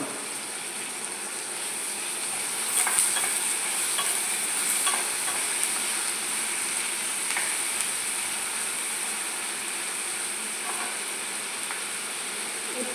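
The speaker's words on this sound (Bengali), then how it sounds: "যাতে এটা তাড়াতাড়ি পেঁয়াজটা ভাজা হয়ে যায়" Onions frying in a pan with a little ginger-garlic paste and salt for beresta, giving a steady sizzle under repeated scraping stirs, close and moderately loud with no talking.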